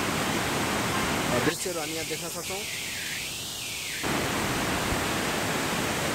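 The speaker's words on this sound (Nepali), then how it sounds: "हामी तल पनि हेर्न सक्छौँ, एकदमै मनमोहक झरनाहरू खसिरहेका छन्।" Baudeshwor waterfall in Tokha, Kathmandu, cascades with a steady, dense roar that fills the whole clip, while someone talks over it for a few seconds in the middle.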